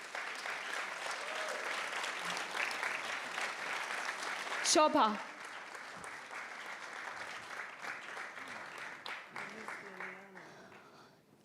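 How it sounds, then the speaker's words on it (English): A crowd applauds a group of young people at a London mental health foundation event, steady clapping filling the room with voices talking over it and a brief louder burst midway. "So just give them a round of applause, please"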